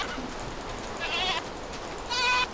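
Two short bleats from a goat in Minecraft, the first around the middle and a louder one near the end, quiet and clear with no talk over them.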